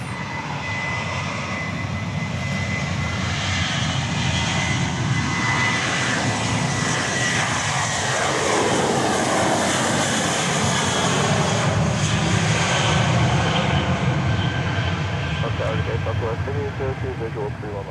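A Challenger business jet on the runway at Dallas Love Field at night, its engines a steady, loud, continuous roar throughout, with a pitch sweep midway as it moves, while radio voices are faintly heard under it.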